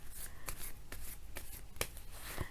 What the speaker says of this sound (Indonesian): Kita bacakan sekarang kartu tarotnya untuk Taurus.